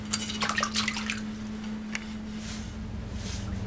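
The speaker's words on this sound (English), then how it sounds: "I'm gonna wash all around the bowl." Water sloshes and splashes around the inside of a Ghanaian clay mortar bowl as it is washed by hand, soft close splashing with a faint steady hum beneath and no speech.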